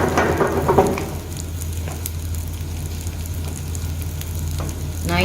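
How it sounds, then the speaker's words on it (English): Creamy chicken stroganoff sauce boiling in a pan, with steady soft bubbling and sizzling, a brief stir or clatter of utensils at the start, and a low kitchen hum beneath it all, with no talking. "So once the sauce is boiling, I'm going to be adding some sour cream to it."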